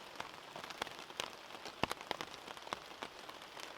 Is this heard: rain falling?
yes